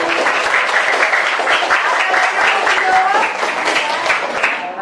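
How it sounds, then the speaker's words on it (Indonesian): Students clapping in a classroom, a dense patter of applause that stays close and steady before tapering at the end, mixed with voices. "Tepuk tangan dulu, kasih tepuk tangan dulu."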